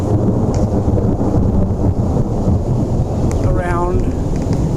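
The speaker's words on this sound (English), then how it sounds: "Well, the rain has started. A little bit of thunder," Thunder rumbles low and continuous through heavy wind buffeting on the microphone during a severe tornado-warned storm in Nebraska, with a brief voice-like sound near the end.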